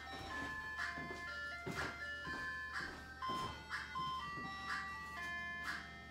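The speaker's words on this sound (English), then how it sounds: "I think the ice cream truck is here." Ice cream truck jingle playing as a repeating chiming melody, fairly faint and somewhat distant, heard over a low steady hum with no talk.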